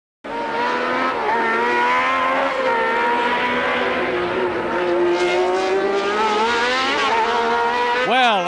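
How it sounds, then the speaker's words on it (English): Formula 1 race cars at speed during the 1981 Spanish Grand Prix, a loud sustained high-revving engine scream that rises and falls through gear changes, with a commentator talking over it. "He surges past Reutemann. An incredible passing maneuver"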